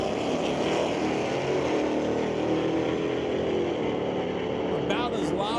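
Two Jeeps launch side by side down a drag strip at Mission Raceway Park during a street-legal night, a loud continuous engine roar filling the track with a track announcer talking over it.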